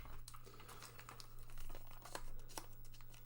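Tape on a package for a Commodore 64 HDMI modulator being cut and torn open, with several crisp crinkling, tearing bursts over a steady low hum, close by and fairly quiet.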